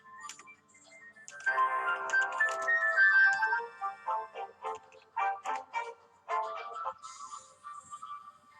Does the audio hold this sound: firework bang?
no